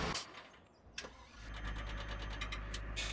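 An NLD supply truck with a Thunder Creek refuel trailer in Farming Simulator 17 starts up: a brief cranking whir catches into a low, steady diesel idle that holds to the end, with no talk.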